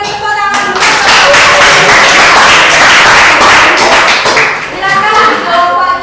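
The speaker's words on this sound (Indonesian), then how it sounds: "Kita beri tepuk tangan dulu." A classroom audience claps together in a steady burst of applause lasting several seconds, fairly loud and close, with a few voices mixed in.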